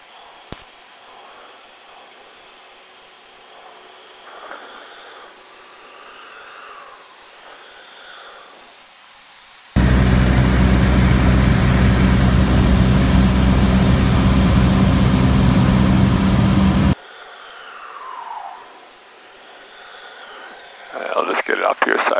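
A small airplane's engine roars loud and steady for several seconds during a touch and go on runway 34, set between quieter stretches of cabin hum and radio chatter.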